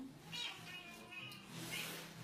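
A cat meows several times close by during a quiet yoga session, drawn-out plaintive cries that rise and fall, with soft room noise between them.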